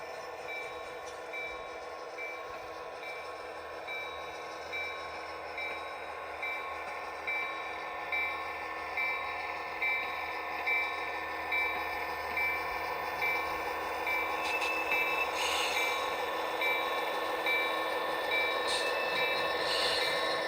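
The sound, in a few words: model train running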